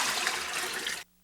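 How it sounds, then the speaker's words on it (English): Brine pours steadily into a large, clean bucket with a close, dense rushing splash for about a second, then cuts off abruptly to near silence. "add your brine to a large, clean bucket"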